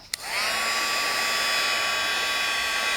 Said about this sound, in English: I'm just going to take my page, and then I'm going to dry it